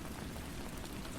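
Steady rain falls as a dense, even hiss with soft raindrop texture, constant and unbroken throughout, with no voices.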